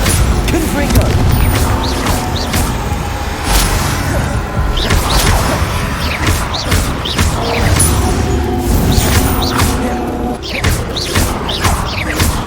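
Confringo fire-spell blasts in the Hogwarts Legacy video game, a dense run of booming explosions, crashes and whooshes layered over combat music, with character voices shouting throughout.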